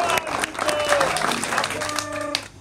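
Crowd applause at a Forum for Democratic Change political rally in Uganda, a short burst of clapping and crowd noise with voices mixed in, fading toward the end.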